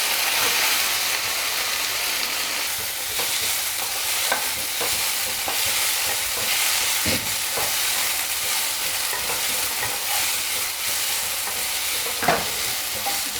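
Mint leaves and tamarind fry in a pan, a steady, even sizzle running throughout with occasional stirring scrapes and small pops, close and continuous with no talking.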